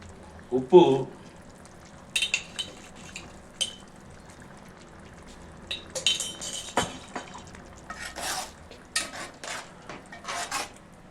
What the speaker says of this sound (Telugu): ఆయుధంతో మళ్ళీ మటన్లో మొత్తం ఒకసారి కలుపుకుందామండి